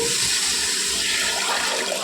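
A steady, forceful stream of water rushes into a pot of prawn pulao, a loud, close, continuous pour with no talk.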